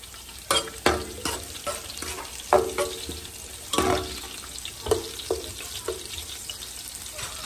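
Chopped green chilies sizzle in hot oil for chicken and shrimp fried rice, with a spatula stirring and scraping in repeated clattering strokes over a steady frying hiss; no voices.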